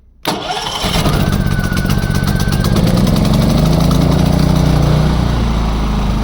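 A Champion 3.5 kW gas-petrol generator in an enclosed housing cranks and catches within a second with choke pulled, then settles into a steady, loud running drone with a slight rise in pitch.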